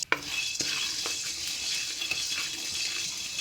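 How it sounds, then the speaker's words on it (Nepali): Dried grains roast with a little garlic in a pan, giving a close, steady dry sizzle and rustle of stirring, broken by sharp scattered clicks and pops as the grains start to burst. "यो फुट्न थालिसक्यो, आवाज पनि सुन्दै हुनुहुन्छ होला, सुनिँदैछ आवाज"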